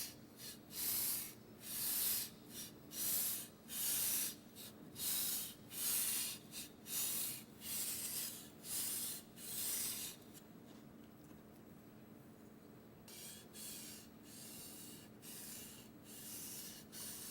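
A knife is drawn rhythmically across a whetstone in repeated scraping strokes with consistent pressure, about two per second, quiet and close, then briefly pauses before a softer, steadier grinding continues.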